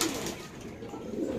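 Pigeons at a pigeon farm give low, soft cooing close by over a busy background, continuous across the short stretch.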